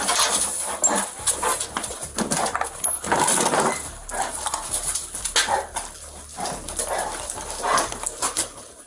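A police dog barks and whimpers in short, irregular bursts against a busy, noisy background, fairly close and loud throughout.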